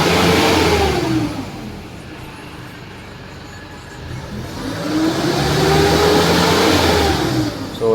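A Nissan Navara Frontier pickup with a check-engine fault and low power revs up, eases down, then revs again, its engine pitch rising and falling loud and close with no talk over it.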